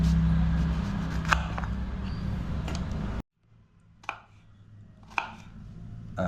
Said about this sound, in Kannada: ಈಗ ಇದನ್ನು ಸಣ್ಣ ಸಣ್ಣ ಪೀಸಾಗಿ ಮಾಡ್ತಾಯಿದ್ದೀನಿ